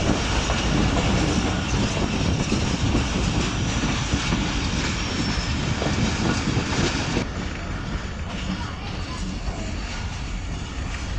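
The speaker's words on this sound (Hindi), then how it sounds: "खूबसूरत कब देकर ट्रेन रोहड़ी में दाखिल होती है," The Shalimar Express rolls into Rohri Junction in a steady, loud roar of wheels and carriages with clattering rail joints. The rumble eases a little toward the end, and a voice can be faintly made out.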